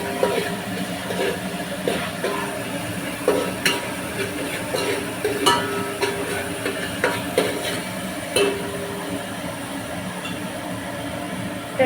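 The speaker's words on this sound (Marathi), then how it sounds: "वाटलेला मसाला टाकला. त्याला चांगलं परतून घ्यायचं आहे." Ground spice paste being sautéed in a pan for homemade chicken dum biryani, a low steady sizzle broken by repeated scraping and clinking of a utensil stirring against the pan.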